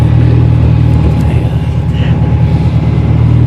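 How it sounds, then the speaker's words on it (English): A cold car engine with a Honda B20 VTEC swap idles close and loud, giving off a dense, continuous low rumble. "When it's cold, it jumps a little bit with the idle"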